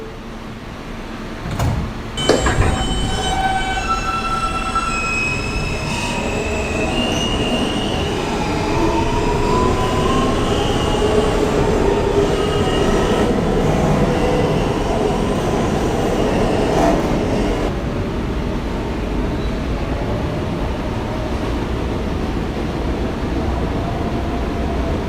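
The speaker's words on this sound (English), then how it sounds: "This is a Coney Island, Stillwell Avenue bound F local train. The next stop is Neptune Avenue." A New York City subway F local train bound for Coney Island–Stillwell Avenue rumbles loudly and steadily toward Neptune Avenue, with wheels squealing and a few door or brake clunks near the start.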